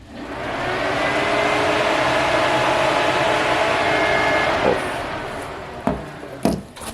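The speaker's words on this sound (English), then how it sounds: "we successfully confirmed that engine cooling fan works" Car engine cooling fan running at high speed during an actuation test, a steady broadband whoosh holding for several seconds, close and loud, then cutting off with a few brief knocks near the end.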